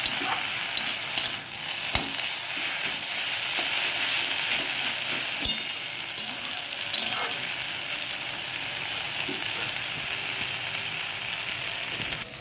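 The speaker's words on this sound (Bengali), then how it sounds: "দাঁড়াও তোমাদের লাইট জ্বালিয়ে দেখা একটু ভাজা ভাজা করবো" Food sizzles and crackles steadily in a hot pan for the whole stretch, with occasional sharp ticks and clinks of stirring.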